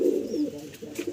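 A pigeon coos softly up close, a low throaty burbling call rising and falling in a short rolling phrase.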